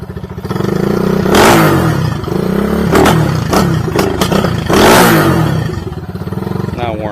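A Honda CG250 motorcycle fitted with a Kipa 28mm flat-slide carburettor revs hard up close before it has warmed up, rising and falling in several sharp bursts with a clattery engine note.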